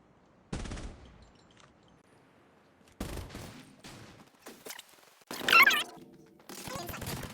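Bursts of gunfire in the mobile shooter Call of Duty Mobile, several separate volleys of rapid shots spread across the moment with quiet gaps between, moderately loud, with a voice talking in places.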